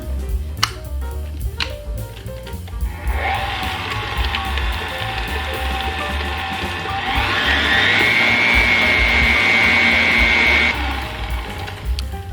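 An electric mixer beats yellow layer cake batter with a loud, steady whir. It starts after a few seconds, shifts to a higher speed partway through with a rising whine, then stops.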